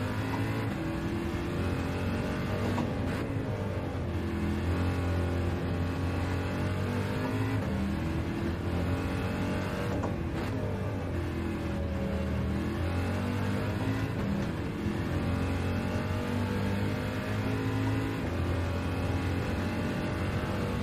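A race car engine in the video game Gran Turismo 7 drones continuously and loudly, revving and shifting pitch through corners and straights without letup.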